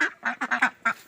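Domestic ducks at a village homestead quack in a quick run of about five or six close, loud calls with short gaps between them.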